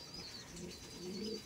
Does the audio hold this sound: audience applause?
no